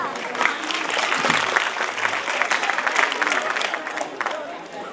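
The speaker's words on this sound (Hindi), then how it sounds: "तालियों के साथ स्वागत करें इनका" A crowd at a school annual function applauds steadily for several seconds, dense clapping filling the space, with some voices mixed in.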